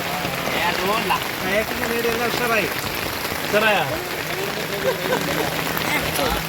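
Steady rain pours down on surfaces at Banasura Sagar Dam, Wayanad, a dense constant hiss, while people talk over it.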